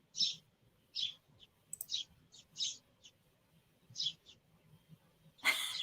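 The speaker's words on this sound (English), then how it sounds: "They're loud, aren't they? Let me know if the birds are too loud." Several birds outside chirp in short, bright bursts scattered over quiet, low background noise, fairly faint and at a distance, with a louder burst near the end.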